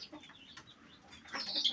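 Stressed chickens near a hidden nest give scattered soft clucks, then a louder burst of squawking toward the end, fairly close by.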